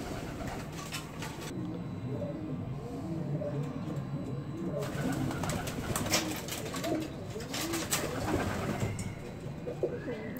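Many racing pigeons coo steadily in a loft, a dense layered murmur of overlapping calls close by, with occasional rustles and wing flutters and no talking.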